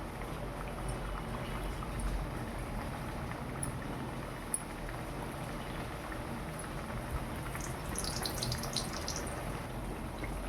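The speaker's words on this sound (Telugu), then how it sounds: "బిస్కెట్లు చూడండి ఎలా వేగుతున్నాయో" Biscuits of wheat-flour dough deep-frying in well-heated oil give a steady, dense bubbling sizzle that holds at an even level throughout, close and continuous, with no voices.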